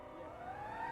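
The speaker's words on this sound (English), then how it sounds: "And that is a fire truck," A fire truck siren wails from a distance, a faint rising tone that sweeps upward through a short stretch under steady background noise.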